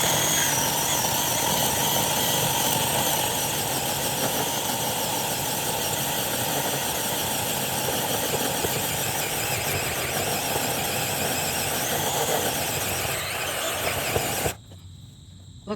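A battery-powered saw cuts low through the trunk of a Siberian elm, a loud, continuous high whine that holds steady for about fourteen seconds before cutting off abruptly, leaving quieter background.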